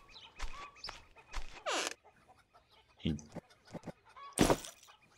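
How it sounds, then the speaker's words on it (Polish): Chickens on a farm clucking in scattered bursts amid rustling and close handling noises, with sharp irregular calls heard up close and brief quiet gaps between them. "Jak to moje kurczaki?"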